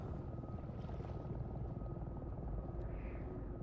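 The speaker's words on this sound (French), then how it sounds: "Y'a un hélico!" A helicopter in the video game Resident Evil Biohazard gives off a steady low rotor drone, fairly faint and unbroken throughout, with no talk over it.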